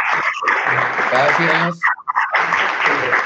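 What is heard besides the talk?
applause from the conference audience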